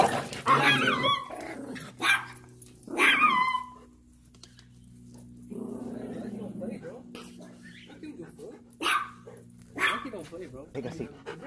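A territorial chihuahua growls and barks in sharp bursts, with a low rumbling growl running underneath between the yaps, close by, while people talk over it.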